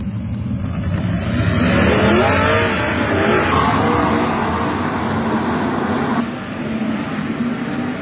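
Sprint cars at Coos Bay Speedway during SCCT Speedweek roar together in a loud, sustained engine drone. The engine pitch sweeps and shifts as the pack circles nearby, with no talk over it.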